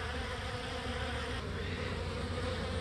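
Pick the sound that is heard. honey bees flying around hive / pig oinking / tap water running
honey bees flying around hive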